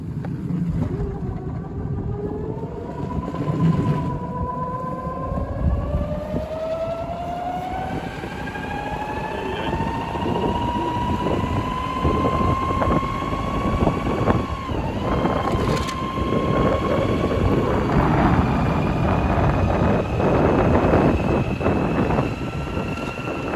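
A Sinclair C5 electric vehicle running on LiFePO4 lithium batteries, driven outdoors: a rising electric motor whine climbs and holds in pitch as it speeds up, under steady wind buffeting and road rumble.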